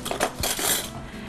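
Metal spoons clink against a bowl and each other as two spoonfuls of salad ingredients are scooped, a few bright close taps and scrapes with no talk.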